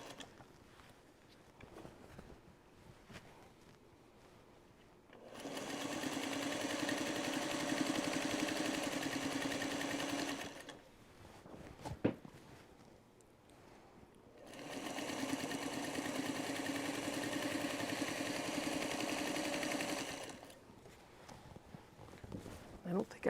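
A sewing machine binds a quilt in two steady, sustained runs of several seconds each, with a person talking during the pauses between them.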